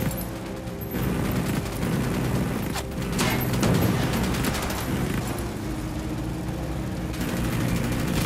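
Gunfire in the video game Ghost Recon Wildlands: dense bursts of shots and booms over a constant rumbling game background, with brief louder volleys in the middle.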